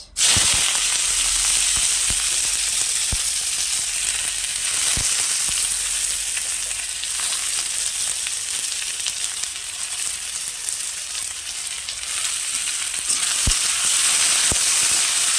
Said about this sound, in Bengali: এবার দিয়ে দেবো আমি পেঁয়াজ